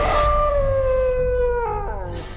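A single long, wavering howl rises and then slowly slides down, loud and close, held for about two seconds over a low rumbling background, in a drama scene with wolves howling.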